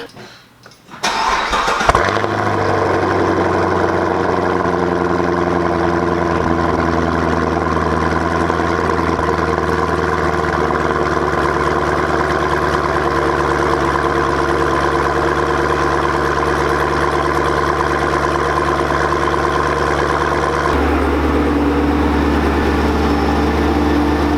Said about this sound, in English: I'm going to start the car up so we can see if there's any sound difference